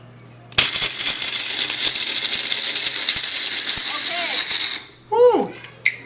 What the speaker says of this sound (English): So we're using a mini chopper here to blend them up